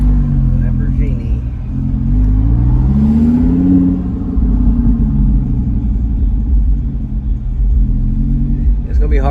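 A Lamborghini Huracan Evo fitted with a VF Engineering supercharger kit on a test drive gives a loud, steady engine drone that swells and rises in pitch as it pulls, with people talking over the cabin rumble.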